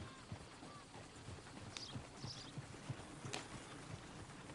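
Faint clip-clop of horse hooves in Red Dead Redemption 2, a soft, uneven walking rhythm heard at a distance under quiet ambient noise.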